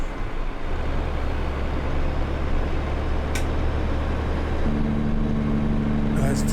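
Engine-brake drone from a truck in American Truck Simulator, played on a winter map: a steady low rumble runs throughout, and a harsher buzzing tone joins it near the end, with a voice talking over it.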